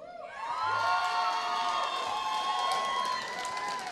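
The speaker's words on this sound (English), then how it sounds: "apparently he has a cheering section" An audience at a behavioral health legislative forum cheers and whoops for a speaker, a loud, sustained crowd roar with shouts rising quickly and holding for several seconds.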